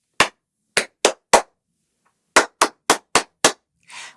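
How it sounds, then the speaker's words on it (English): A rhythmic pattern of crisp pats and claps, four hits, a pause, then five more in steady tempo, close and loud with silence between. "So you pat the first, you clap the next."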